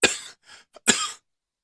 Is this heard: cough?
yes